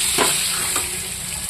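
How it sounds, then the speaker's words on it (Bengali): Potatoes with salt and turmeric fry and get stirred in a pan, a loud close sizzle with a couple of scraping stir strokes over a steady hiss. "দিয়ে আমি একটু লাল লাল করে ভাজা করে নেব আলুটা"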